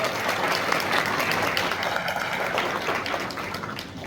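An audience at a Christian school graduation ceremony claps in a steady, dense burst of applause filling the hall for about four seconds, loud throughout with no clear voices over it.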